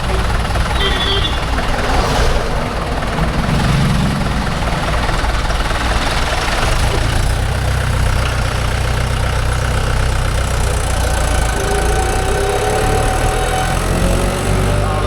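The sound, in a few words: vehicle engine running, tractor or JCB backhoe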